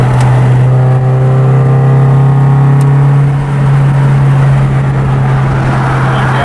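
A car engine drones steadily at highway speed around 4,000 to 5,000 RPM during a radiator leak test, a loud, constant hum with road noise and no talk.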